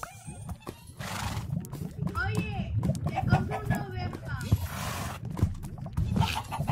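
Several horses in a Minecraft video game whinny and neigh repeatedly, with soft hoof clopping underneath and people talking throughout.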